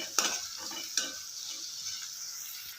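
Onions frying in a pan for vermicelli upma, a steady soft sizzle with two sharp utensil scrapes near the start, close and fairly quiet with no talking.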